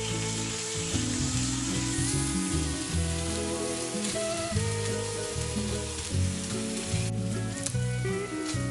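Glazed Spam sizzling in a skillet for Hawaiian Spam musubi, a continuous close sizzle under a steady low tonal hum with light scraping, fairly loud and even throughout, no speech.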